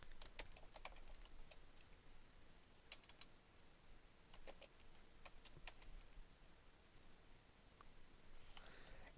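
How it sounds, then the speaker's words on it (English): Fingers typing a search term on a computer keyboard, a quiet close run of irregular key clicks in short bursts with brief pauses, no voices. "we are going to then just kind of type in our subject matter here"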